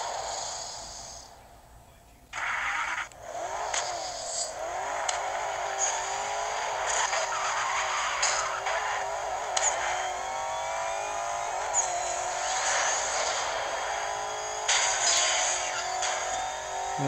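A car in the racing video game Need for Speed Most Wanted on PS Vita drives and revs, its engine rising and shifting in pitch with skidding tire squeals, continuous and fairly loud.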